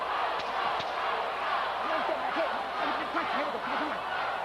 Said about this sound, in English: Now the crowd chants for Bowe.